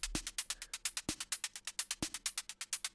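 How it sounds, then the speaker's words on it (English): A soloed electronic hi-hat loop ticks in a fast, steady rhythm of bright, crisp hits, with a low snare-like thump landing about once a second, heard alone and up close without any voices. "I kind of really like this hi-hat loop, and it sounds like this."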